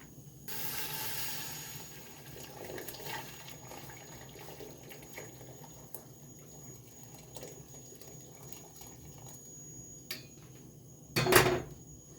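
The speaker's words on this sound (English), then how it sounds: "So I'm going to put the hot water and then I'll show you the rest." Hot water poured from a kettle into a pot of beans and onion for sour soup, a steady hissing pour that fades into soft kitchen sounds, with a sharp clatter of the pot near the end.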